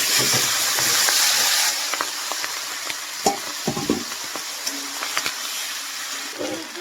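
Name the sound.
onion stalks frying and stirred in oil in a wok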